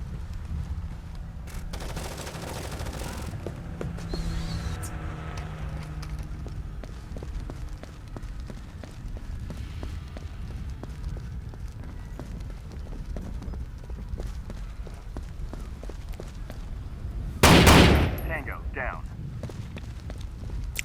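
A single loud, sharp gunshot burst from the tactical shooter game Rainbow Six 3 Raven Shield, ringing out near the end over a steady background of game ambience and someone talking.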